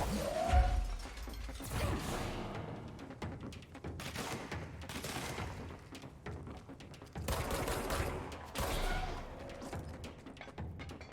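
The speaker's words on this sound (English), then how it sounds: "I hear gunshots, but I can't see." Gunfire in the video game Control: repeated bursts of shots with mechanical clatter run through the whole stretch, swelling and fading against a dense, busy game soundscape with no talk.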